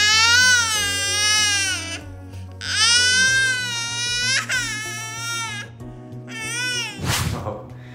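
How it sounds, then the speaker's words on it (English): A baby cries loudly in repeated wailing bursts with short pauses between them, heard over a low steady background hum, ending in a sharp rustle or knock. "like when your baby is crying out loud"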